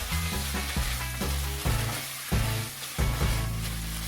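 Glass noodles stir-fried with tomato, a loud, dense sizzle close up, with repeated scraping tosses every half second or so and heavy pan movement throughout.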